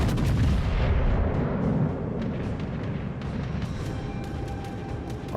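The battleship Carolina fires a heavy gun salvo in World of Warships, one big booming blast up front with a rumbling tail that fades over several seconds.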